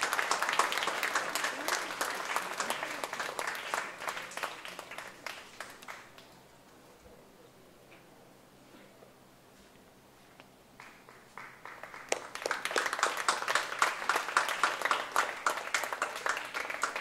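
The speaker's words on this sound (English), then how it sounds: "Can we all give them a huge round of applause?" An audience applauds at a charity event as a couple is called on stage, a dense, steady clapping that fades to near quiet midway and then swells back up loudly.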